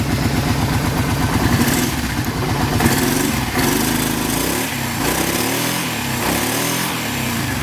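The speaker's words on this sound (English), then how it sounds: "V-twin just has a great sound." A 2007 Kawasaki Brute Force 650 4x4 ATV with a V-twin engine idles close by, with a loud, lumpy, pulsing rumble and slight revving swells, and no talking.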